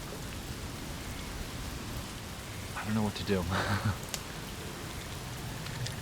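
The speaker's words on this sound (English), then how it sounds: "It's still raining, as you can see." Steady rain falls outdoors in a wet, marshy spot, a dense even hiss throughout, while someone speaks briefly in the middle.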